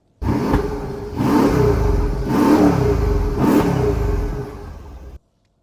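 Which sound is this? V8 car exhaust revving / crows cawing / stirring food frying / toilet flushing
V8 car exhaust revving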